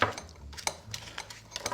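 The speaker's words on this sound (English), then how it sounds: "I'm going to slice the pancetta ready for" A knife taps and scrapes on a board in quick, uneven cuts, close by, with small clicks of a blade slicing through pancetta.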